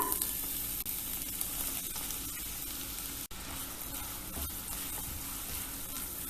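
Chopped onion fries in about two tablespoons of hot vegetable oil in a pan, producing a loud, dense, continuous sizzle that stays steady throughout, with only a faint click or two breaking through.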